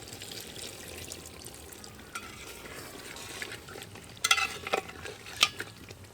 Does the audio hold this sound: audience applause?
no